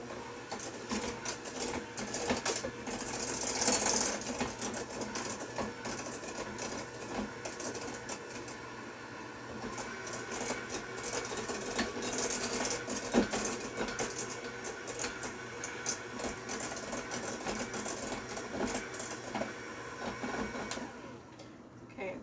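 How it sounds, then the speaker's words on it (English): Electric hand mixer creaming brownie batter in a bowl, a steady whirring drone running throughout at fairly constant loudness with faint voice traces over it. "So I'm going to go ahead and mix this, cream it together"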